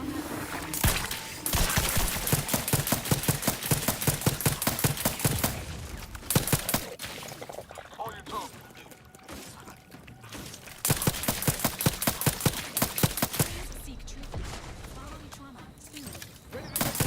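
Rapid bursts of automatic gunfire in the shooter game Outer Worlds 2, played on very hard mode, come in long rattling volleys broken by short pauses, with a voice talking over parts of the fighting.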